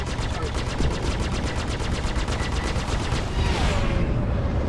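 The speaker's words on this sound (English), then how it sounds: "Please stop firing at me." Ship weapons in the space game Star Citizen fire in a rapid, evenly spaced stream of loud bursts during a fight among asteroids, then end in a brief sweeping whoosh.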